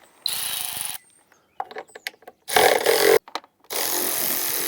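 Bursts of a cordless power tool driving an 8 mm socket to remove the cowl screws on a Kohler Courage engine, several short whirring runs separated by pauses and clicks, close and fairly loud.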